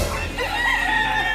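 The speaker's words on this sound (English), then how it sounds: "Y'all see the chicken?" On a family farm, a chicken gives drawn-out, wavering clucks and calls, close and fairly loud over a constant background rumble.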